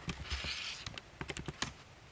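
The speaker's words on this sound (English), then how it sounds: "I'm just typing up a text document" Quiet, close clicking of keys on a Mac computer keyboard while a text document is being written. The taps come in irregular bursts with short pauses between them, and nothing else can be heard.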